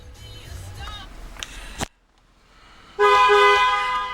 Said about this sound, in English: just showing you the horn works there